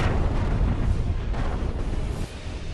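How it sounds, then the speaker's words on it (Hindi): Deep, continuous rumbling blasts from explosions at an oil depot in Belgorod during an air strike, a dense, loud, sustained roar with no distinct separate bangs and no voices. "और फिर तेज धमाकों से पूरा इलाका दहल जाता है।"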